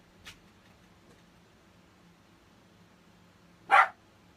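A dog gives a single short bark, fairly distant and alone, against a quiet background with a faint click just before.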